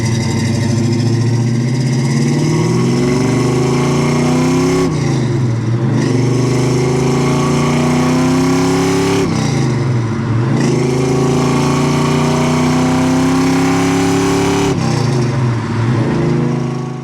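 A 1971 Chevrolet Chevelle's big-block engine roars close by, climbing in pitch through repeated accelerations, with brief drops between gear changes.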